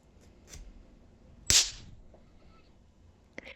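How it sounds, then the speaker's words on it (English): A Christmas cracker is pulled apart and its snap goes off with one sharp, loud crack, close by and otherwise quiet, followed by faint rustling. "That's the noise that our crackers make when they go off because of that bang."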